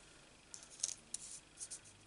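Scissors snipping out a stamped paper flower for a Stampin' Up card, a few faint close crisp cuts in an irregular rhythm over a quiet background.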